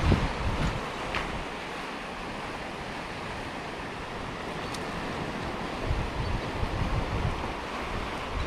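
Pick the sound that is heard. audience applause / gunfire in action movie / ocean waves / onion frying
ocean waves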